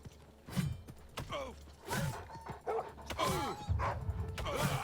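Dog in Oblivion Remastered giving several loud, separate barks and yelps over a few seconds, mixed with creaky game noises and combat sounds.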